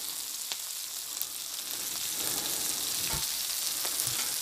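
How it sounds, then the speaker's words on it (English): Brussels sprouts frying in bacon grease on a Blackstone flat-top griddle, a steady, close, bright hiss and sizzle with small pops and occasional scraping, no voices. "watch Brussels fry in bacon grease"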